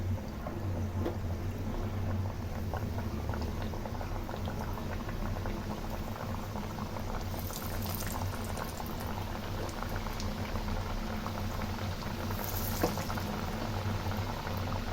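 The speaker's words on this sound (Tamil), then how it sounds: "நம்ம இப்போ அப்படியே எண்ணெய் காய வச்சு நம்ம அப்படியே பொறிச்சு எடுத்துக்கலாம்" Biscuits deep-fry in hot oil, a continuous dense bubbling and hissing that stays steady and close throughout, with no talking.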